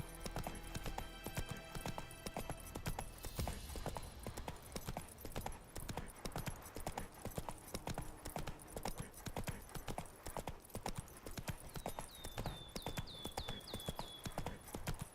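Steady rhythmic clip-clop of horse hooves at a trot in The Witcher 3, busy and continuous, with game music and a brief whinny-like trill near the end.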